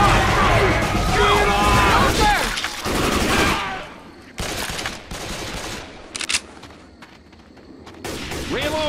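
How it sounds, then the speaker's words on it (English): Hunting rifle gunfire in the zombie shooter Left 4 Dead 2, on the Cold Stream campaign, with loud repeated shots and crashing bursts over chaotic game noise, while a voice talks over the action. "This hunting rifle."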